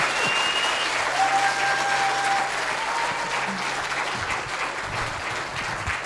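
Audience applause fills a hall at an informal talk and book launch, a steady dense clapping that holds loud and even throughout with no pause.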